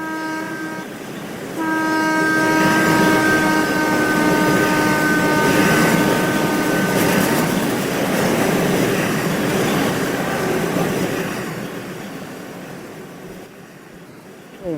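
A Japanese transit train in the Roblox game RO-Scale rumbles loudly through a tunnel after a short horn blast, the steady roar slowly fading toward the end.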